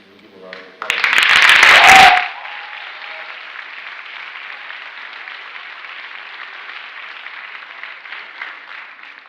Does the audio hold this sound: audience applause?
yes